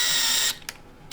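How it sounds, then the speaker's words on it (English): Combo drill and tap cutting M5 threads into an aluminum Z plate, lubricated with cutting fluid: a close, steady high-pitched whir for half a second, then quieter short ticks and clicks as the tool reverses. "I'm switching up to tapping the M5 threaded holes for mounting the rail to the Z plate"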